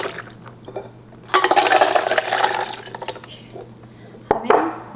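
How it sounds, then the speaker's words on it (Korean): Walnuts rubbed and squished by hand in a bowl of water while being rinsed for stir-fried anchovies, a busy wet sloshing from about 1.3 seconds on that fades, then a brief splashy burst near the end. "물을 넣고 물을 부어주고요. 손으로 조물조물"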